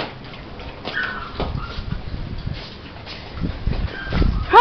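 Dogs whimper and whine softly in short, high, close bursts, with some faint rustling between them.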